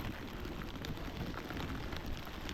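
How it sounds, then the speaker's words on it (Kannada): Rain comes down hard around a cyclist on a route to Tillari, a steady dense hiss of drops on surfaces with faint low rumbling underneath, fairly quiet and constant with no one speaking. "ಮಳೆ ಜೋರಾಯಿತು."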